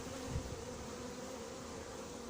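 Faint, steady hum of a swarm of honeybees gathered in a cardboard box, a soft continuous buzzing drone without any voices.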